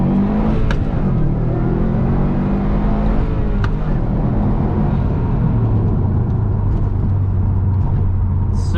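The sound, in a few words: 2019 Subaru STI Type RA accelerating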